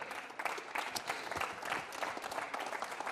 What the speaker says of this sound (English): that deserves a bit of a round of applause